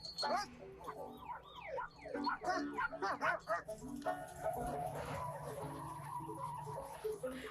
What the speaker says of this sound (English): This poor dog.